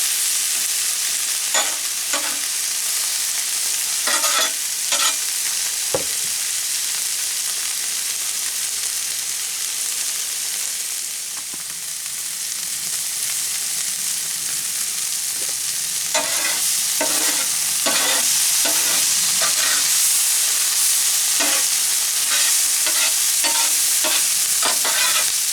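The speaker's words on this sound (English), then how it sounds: "Yes, indeed, it's sizzling." Steady, loud sizzling of onions frying in a pan, with a string of sharp clicks and scrapes from stirring scattered throughout.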